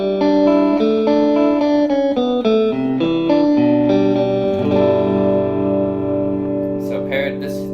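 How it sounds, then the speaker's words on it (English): Sustained guitar notes through a Milkman One Watt Plus amplifier ring out and overlap, each one trailing off into a long, washy reverb tail that keeps sounding after the playing stops. "This reverb is really nice."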